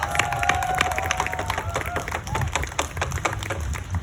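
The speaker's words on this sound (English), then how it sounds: "Give her a big round of applause." Audience at a rally in Cherry Hill for an Asian American curriculum bill breaking into applause, a dense run of clapping mixed with a few cheers filling the room.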